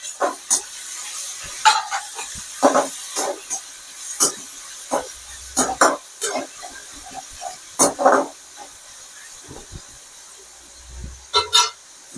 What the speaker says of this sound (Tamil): தக்காளி இதையும் நம்ம இதில் போட்டு நல்லா வதக்கிக்கலாம்